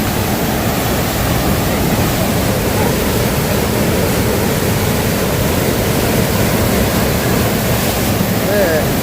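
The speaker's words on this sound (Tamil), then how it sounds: "தண்ணி போற வேகத்தை பார்த்தாலே பயமா இருக்கு" Fast-rushing water flows at Kalawewa reservoir, making a loud, constant roar that stays steady and unbroken throughout.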